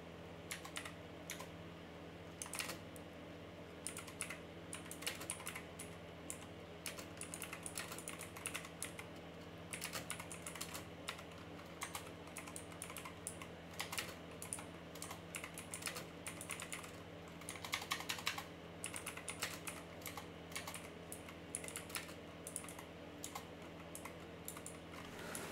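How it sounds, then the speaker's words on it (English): Steady typing on a computer keyboard, a continuous run of close, fairly quiet key clicks with an uneven rhythm over a low background hum, with no talk. "Hey, keyboards. I hate typing."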